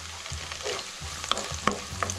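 Whole garam masala and halved green chillies fry with onions in a pan, a steady sizzle broken by a few sharp spatula scrapes and clinks as the mix is stirred, close and fairly quiet with no talking.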